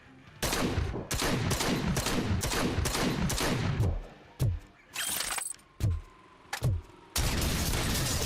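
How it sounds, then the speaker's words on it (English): A combat shotgun in the Robocop Rogue City video game fires a rapid string of loud, punchy blasts. A few spaced single shots with short pauses follow, then a final burst. "Let's take the combat shotgun."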